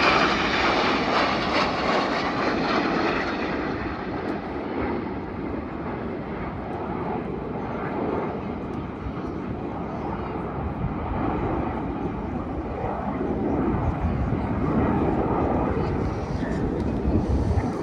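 Red Arrows display jets flying the rollback manoeuvre roar steadily at a distance, a broad jet rumble with rising and falling intensity, while a commentator talks over the engine noise.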